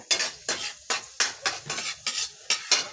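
Garlic and meat being sautéed in a pan, with repeated scraping stirs of a utensil in a regular rhythm, about seven strokes over a soft sizzle, close up and with no voices.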